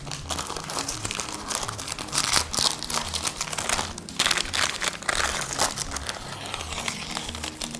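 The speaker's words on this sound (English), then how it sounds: "Immediately we remove the baking paper." Baking paper peeled off a freshly rolled Swiss jam roll sponge, giving continuous close crinkling and crackling with small rustling bursts throughout, no talking.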